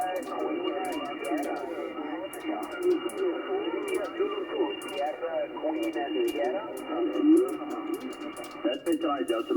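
Single-sideband amateur radio voice signals on the 20m band during an SSB contest, received in Kuwait: a continuous stream of muffled, band-limited talk with a steady tone and crackly static running underneath.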